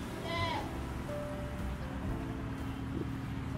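A goat bleats once, a short wavering cry close by, against steady background noise and faint talk.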